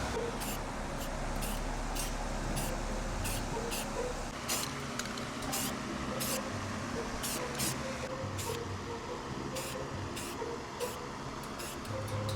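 Aerosol paint sprays onto a BMW M3 in repeated hissing bursts of roughly half a second each, close and loud, over the constant whir of a nearby fan.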